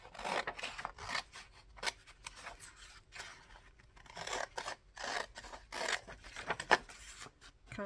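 Scissors snip through a printable paper sheet for cardmaking, with a series of close, crisp cuts in an irregular rhythm and short pauses between them.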